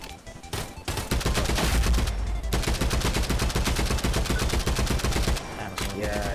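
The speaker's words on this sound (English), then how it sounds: "Oh shit, I'm being shot at." Gunfire in the shooter game Contractors Showdown: rapid, loud bursts of automatic shots that run almost continuously, pausing briefly near the start and again near the end.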